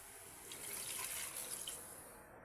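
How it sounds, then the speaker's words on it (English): Water poured from a tap into a pot of Afang soup while cooking, a steady broadband splashing rush lasting a couple of seconds, close and moderately loud, with no voices. "just to add a little bit of water for it to cook very well"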